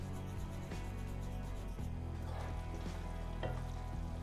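Dried kasuri methi, one tablespoon, stirred into a hot oil mixture in a pan with the gas turned off, giving a steady close sizzle with occasional scraping stir strokes and no talk.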